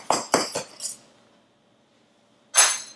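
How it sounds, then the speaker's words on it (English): A butter knife runs around the sides of a cooled cake pan, making short, bright metallic scrapes and clinks. Four quick strokes come close together, then a pause and one more longer scrape. "I'm just going to take it out of the pan, scraping the sides with a butter knife"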